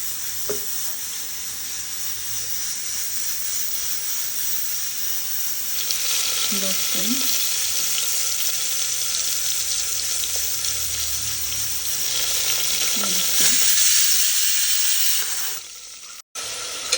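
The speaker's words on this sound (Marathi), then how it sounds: "तेल तापलं आहे त्याच्यात आपण जिरे टाकूया" Cumin seeds sizzling in hot oil for mung dal: a loud, continuous crackling hiss that grows brighter midway, with a few faint clicks and a brief voice in the background.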